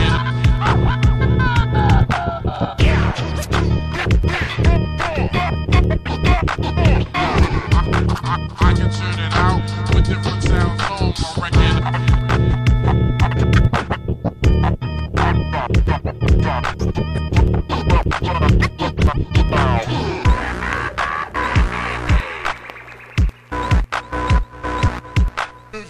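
Vinyl record scratching over a looping beat, rapid rhythmic scratch bursts cutting in and out, loud and close, the beat fading near the end.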